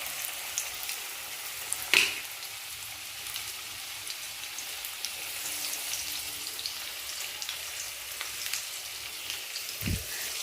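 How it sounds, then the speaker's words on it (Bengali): Oil sizzles in a hot kadai wok, a quiet, even crackling hiss with a sharp knock of metal early on and another soft thump near the end, no voices. "তেলও দিয়ে দিচ্ছি। কড়া তো গরম হয়েই গেছে।"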